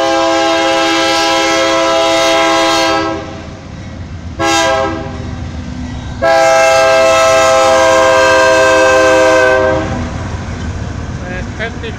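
A BNSF freight train rolls past with a steady rumble while its horn sounds loud and close: a long blast, a brief toot, then another long sustained blast before fading into the passing rail noise.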